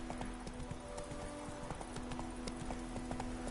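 Roach the horse's hooves clip-clop at a steady walking rhythm in The Witcher, with close, regular hoofbeats over a faint sustained ambient tone and no speech.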